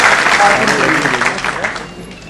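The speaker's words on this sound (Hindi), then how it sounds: "तो अगर आप तालियां भी बजाएं उस पर तो बहुत अच्छा लगेगा" An audience applauds at a talk on girls' education, a broad wash of clapping mixed with voices that gradually thins and fades.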